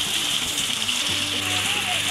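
Water from a homemade duck pond fountain splashes and gushes steadily like rain, close and continuous, with a voice talking over it.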